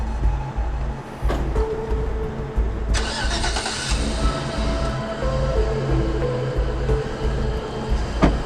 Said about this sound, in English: Meanwhile, ICE officer Ken parks the suspect's van further down the street.